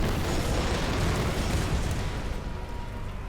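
A thrown lantern explodes in the Tomb Raider 2013 video game, giving a dense, sustained roaring blast of rumble and crackle that fills the whole stretch without fading much.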